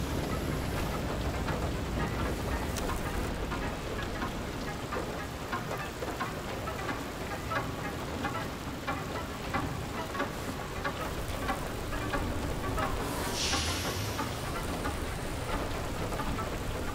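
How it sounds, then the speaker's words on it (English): A heavy rainstorm pounds down in the video game FAR: Lone Sails, a dense, constant roar of rain beating on surfaces for the whole stretch, loud and steady with no talking. "it's like a hailstorm."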